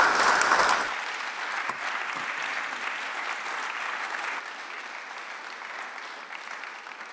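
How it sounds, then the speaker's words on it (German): Sustained applause from a church congregation at a welcome evening, a dense wash of clapping that starts loud, eases after the first second, and carries on steadily to the end without talk. "Wir begrüßen die beiden mit einem herzlichen Applaus"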